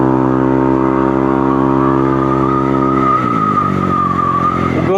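A Yamaha Aerox V2 scooter fitted with a new exhaust pipe holds a loud, steady, bassy rev close by. The pitch then drops and wobbles as the throttle is released.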